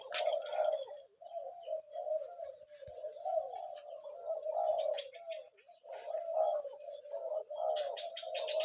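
A large-voiced dove coos repeatedly in deep, rolling phrases with brief pauses, fairly close and clear, with faint chirps of other birds in the background.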